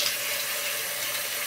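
Water runs steadily from a tap into a sink as a face is rinsed, a brief, close, continuous hiss with no talking.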